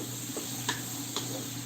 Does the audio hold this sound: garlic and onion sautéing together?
yes